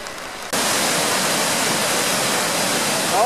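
Rising floodwater of the Kleine Emme river rushing past, a loud, steady broadband roar that starts abruptly after a brief quieter moment and continues unbroken, close by.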